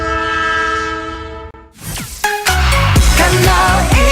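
A loud, sustained train horn blares with steady tones for about two seconds, then a passing train takes over with a heavy rolling rumble, rattling wheels and another short horn burst, close and continuous to the end.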